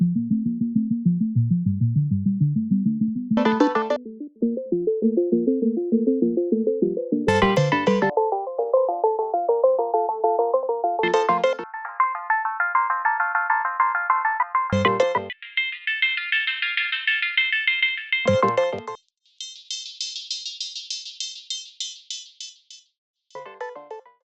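A synth arpeggio built with Ableton stock plugins and a delay effect plays alone in sections, moving from low to high registers. Each band is a fast, repeating pulsing pattern, and the sections are separated by brief sharp transitions.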